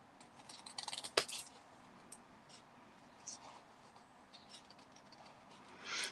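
Scissors fussy cutting paper pieces for a handmade card, giving soft snips and a sharp cut near the start, then faint scattered snipping and rustling, with a louder burst of cutting at the end.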